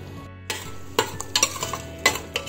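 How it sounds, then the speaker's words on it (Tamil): A spoon stirs masala powder into a pot of Dindigul Thalappakatti-style mushroom biryani, giving several sharp scraping clinks at irregular intervals over a low background sizzle. "நல்லா கலந்து விட்டுக்கலாம்."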